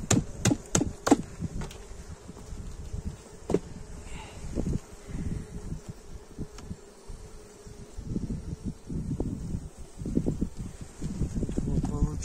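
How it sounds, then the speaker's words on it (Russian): Bees in a winter hive during February give a low, soft hum, mixed with close rustling, handling clicks and knocks as the nest is opened. "Пчелы вот сидят."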